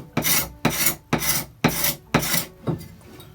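A scraper strips varnish and paint from an inexpensive bushcraft axe in six even, rhythmic rasping strokes, each a close, harsh scrape separated by short gaps, with no voices.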